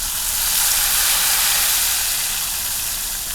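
Buttermilk spice mix hits hot garlic-and-oil tempering for a Kathiyawadi dhokli curry, giving a loud, steady, close steaming hiss that holds evenly throughout with no voices.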